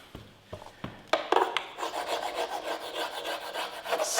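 A tool scraping across a primer-painted surface during a bonding primer test, a few separate knocks and then a continuous close rasping rub with no talk.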